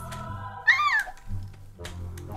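Cartoonish cat meows from the video game KITTIES! The Purring Quest, one clear rising-falling meow followed by softer mews over a low background music bed.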